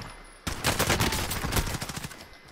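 A pistol being fired in a shooter game, a loud rapid string of close shots starting abruptly and continuing for about two seconds, then thinning out, with no talking.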